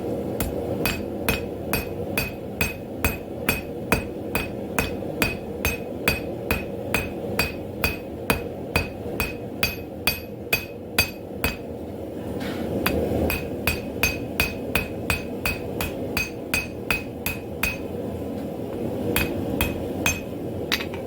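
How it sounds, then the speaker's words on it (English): Steady metallic hammer blows on hot metal over an anvil ring out in a regular rhythm, a dozen or more sharp clanging strikes close by, with a brief pause midway before the pounding resumes. "I'm going to hammer this sideways like this"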